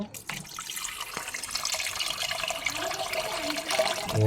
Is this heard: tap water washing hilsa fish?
yes